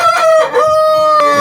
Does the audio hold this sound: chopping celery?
no